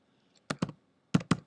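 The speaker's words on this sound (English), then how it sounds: "So I'm going to type in" Typing on a computer keyboard for a web search, four crisp key taps in two quick pairs, close and clear against near silence.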